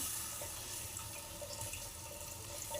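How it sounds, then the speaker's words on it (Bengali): Water pours into a pan of spice masala frying in oil, producing a short, continuous faint rushing splash without speech. "জল ঢেলে দিলাম"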